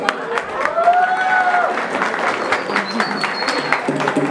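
An audience at a quinceañera party applauds a youth mariachi band, a fairly soft, steady patter of clapping with a little cheering and voices mixed in.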